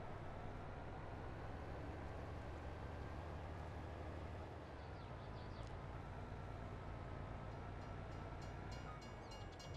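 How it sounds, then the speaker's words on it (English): A train passes close by, filling the whole stretch with a loud, steady roar and rumble that never lets up, with no voices over it. "Oh, you damn train."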